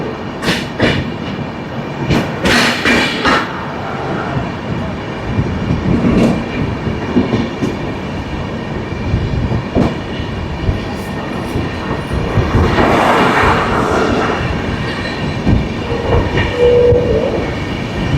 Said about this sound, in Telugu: మరిపాలెం స్టేషన్కి వచ్చింది, మళ్ళీ వెంటనే స్టార్ట్ అయిపోయింది.